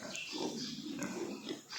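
A little pig with a red mark on him grunts softly and repeatedly up close, in low snuffling bursts, against faint outdoor background noise.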